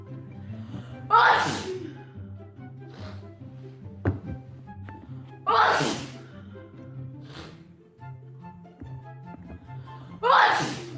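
Three loud, close sneezes burst out at roughly even intervals during a live stream, each a sharp explosive blast, with a steady tonal background in between and a small thunk between the first two.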